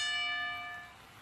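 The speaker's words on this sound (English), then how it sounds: "Bell has rung. This match is officially underway." A wrestling ring bell rings out to start a match at an indie show, a clear metallic ring with sustained overtones that fades away over about a second, with no talk.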